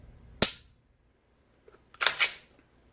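Glock 48 pistol trigger resetting, with a sharp close click followed after a pause by a second, louder pair of metallic clicks, heard alone.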